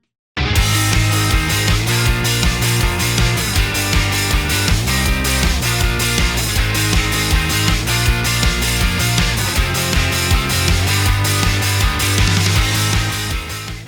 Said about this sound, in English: I added a bass line with another guitar playing power chords with a dirtier sound